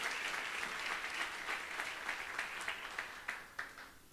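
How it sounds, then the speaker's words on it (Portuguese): A congregation at a Portuguese-language evangelical church service applauds in sustained clapping that thins toward the end, leaving scattered individual claps in a reverberant hall. "Você pode aplaudir e glorificar o nome de Jesus Cristo essa noite."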